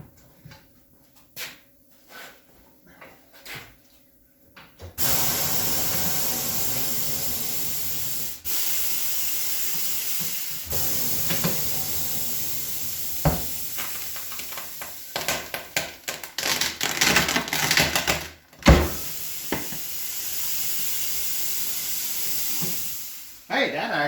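Compressed air hisses steadily and loudly into a rotten rear tire being seated on a Ford 8N tractor rim, after a few scattered clicks, with sharper bursts and knocks later in the run.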